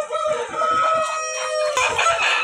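Chickens at a broiler parent-stock poultry farm cluck in a busy, repeated chatter while a rooster crows loudly nearby, the calls overlapping in a crowded shed.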